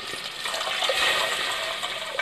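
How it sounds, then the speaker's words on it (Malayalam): Water pours in a steady gushing stream into a pot of rice for chicken biriyani, close and fairly loud, a continuous splashing rush with no one talking. "6 ഗ്ലാസ് വെള്ളം നമ്മൾ ചേർത്ത് കൊടുക്കുകയാണ്."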